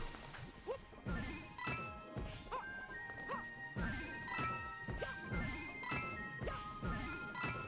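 Bell jingling in the video game Bowser's Fury, bright repeated chimes and tinkles amid crashes, thumps and yapping game effects, busy and continuous over several seconds.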